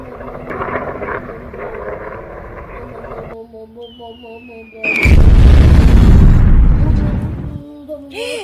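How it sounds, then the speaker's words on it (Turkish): A heavy bombardment explosion in a game erupts as a sudden loud, sustained blast roaring for about two and a half seconds, after earlier electronic tones and a rising whistle. "Eyvah Kuzey bombardıman gelmiş."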